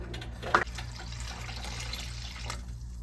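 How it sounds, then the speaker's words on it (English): Water runs and splashes steadily into a cooking pot, with a sharp clink near the start and a constant low hum underneath. "so you add water"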